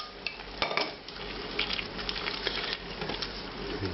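Lentil dahl and masala are stirred together in a hot pan, a steady sizzle and bubbling broken by scraping and clinking of a spoon against the metal, close and continuous.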